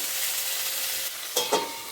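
Tomato frying in a pan at home, a steady sizzle with stirring scrapes, loud and close, with a couple of sharper bursts near the end and no voices.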